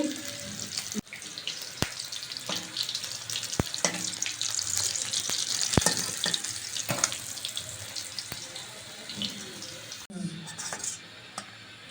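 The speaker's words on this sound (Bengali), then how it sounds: "এখন মাছ ভাজি করছি" Fish fries in a pan in a home kitchen. A steady, hissing sizzle carries on throughout, broken by occasional sharp clinks and knocks of utensils against the pan.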